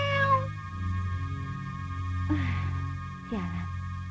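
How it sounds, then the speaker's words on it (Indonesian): A cat meows in a dim indoor scene from the 1991 Indonesian film Ojek, with two or three rising and falling cries over a steady background hum. No one is speaking. "Sialan. Kucing brengsek."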